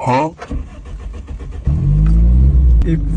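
Brief talk, then a car engine cranks and catches, settling into a loud, steady rumbling idle up close.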